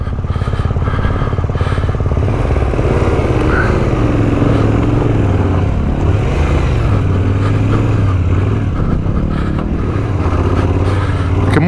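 A Yamaha Tenere 700 motorcycle rides a rough off-road trail, its engine loud and close and rising and falling as it revs, with clatter from the terrain underneath.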